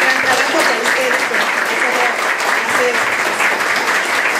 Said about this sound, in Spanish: quiero darle un fuerte aplauso a todo el equipo